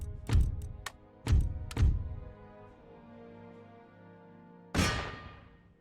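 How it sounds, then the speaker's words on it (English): Empire: Total War cannon firing carcass shot at defenders on a wall: several heavy booming thuds, two close together, then a pause with a lingering rumble before a final loud blast. "Just kill them beforehand with the carcass shot."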